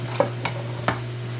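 Spaghetti and vegetables stir-fried in a pan, heard as three soft scraping stirs over a steady low hum, close and without talk.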